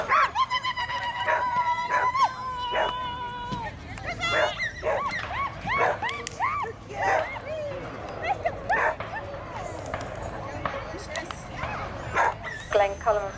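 Dogs at an outdoor game fair in Yorkshire bark repeatedly in sharp, close bursts, mixed with high whimpers and yips, while people talk nearby.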